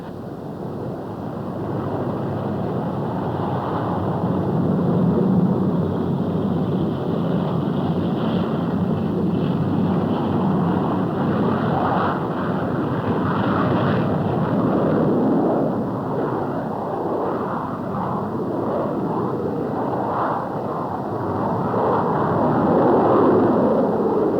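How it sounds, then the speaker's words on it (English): A powerful, continuous jet engine roar from a Crusader III jet taking off fills the scene, broad and steady with slight surges, thundering down a runway. "ready for takeoff"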